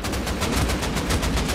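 Loud sustained automatic gunfire from the video game Rust on console, a fast continuous rattle of shots filling the whole moment without a pause.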